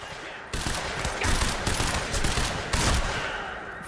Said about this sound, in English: This guy's got a shotgun.